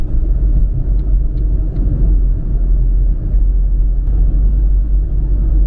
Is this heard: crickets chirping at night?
no